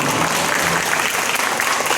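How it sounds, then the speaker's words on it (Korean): Lecture audience applauding during a keynote talk at a Korean teachers' union education conference; dense, steady clapping from a large crowd fills the whole stretch at even, loud volume. "박수 치셔야 됩니다."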